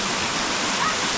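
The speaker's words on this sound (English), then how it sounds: "Waterfall." A waterfall near a village roars with a steady, dense rush of falling water, loud and unbroken throughout, with no clear speech over it.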